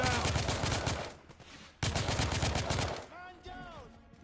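Rapid bursts of gunfire from the video game The Order: 1886, loud and dense in two stretches, then thinning as a voice speaks over the end.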